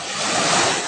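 Sea waves wash and roll close by in a steady broadband surge, with wind buffeting the microphone throughout.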